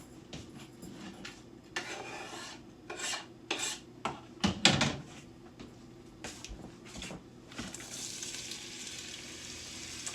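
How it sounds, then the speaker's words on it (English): Onions sauteing in olive oil in a Dutch oven, a soft steady sizzle under repeated scraping and clattering of a utensil against the pot, with a louder burst of rasping strokes midway and brighter hiss near the end. "We're going in with olive oil so I can saute my onions before I put my beans in there."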